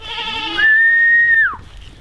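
A goat on a homestead gives one loud, drawn-out bleat close by, rising and holding a wavering tone before dropping off, following a shorter call at the start.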